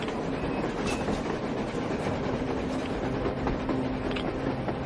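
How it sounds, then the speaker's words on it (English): A train rolls along on the surface in Metro Exodus, a continuous rumbling roar with rhythmic rattling clatter of wagons, fairly loud and steady, heard alone. "A train! A damn train on the surface!"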